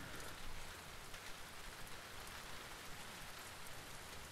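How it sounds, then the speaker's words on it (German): Steady rain pouring in The Last of Us Part 2, with near a parking garage in the scene: a dense, even hiss of falling drops throughout, continuous and unbroken with no voices. "der Regen hört sich auch mega geil an"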